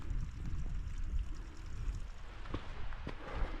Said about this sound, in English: You can hear that waterfall from over here, can't you?